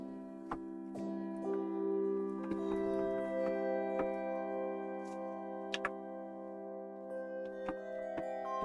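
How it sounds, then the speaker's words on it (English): A sampled hand bells preset on a synthesizer rings in sustained, overlapping bell tones, with scattered light clicks and ticks struck across the quiet passage. "You can see all these bells. I've got a huge bells preset collection."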